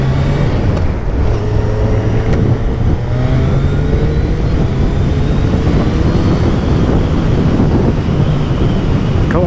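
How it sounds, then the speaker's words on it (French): A Suzuki Hayabusa sport motorcycle engine revs loudly while riding, its pitch climbing steadily as it accelerates, with heavy wind rush over the microphone throughout. "Oh, le son du moteur."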